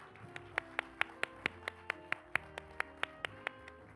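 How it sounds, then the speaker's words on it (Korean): Slow, evenly spaced hand claps from an audience applauding the speakers after a conference session, about a dozen sharp claps in a steady rhythm, fairly faint and without talk. "네분의 연사님들께 다시 한번 열렬한 박수 보내드려 볼까요?"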